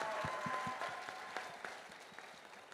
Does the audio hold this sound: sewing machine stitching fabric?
no